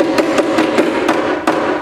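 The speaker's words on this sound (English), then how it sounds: "I have to have a hammer here" A hammer pounds repeatedly during a stage magic trick at a school, about six sharp evenly spaced knocks, close and loud over a faint background murmur.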